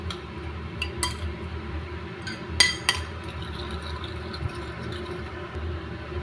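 A spoon stirs salt into a home-cooked lunch dish in a pan, giving a few sharp metallic clinks and scrapes over a low, steady background hum.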